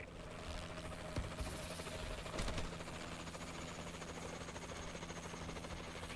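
A Warbird aircraft hovers in the Call of Duty: Advanced Warfare video game, giving a continuous droning, rotor-like engine hum that stays level throughout.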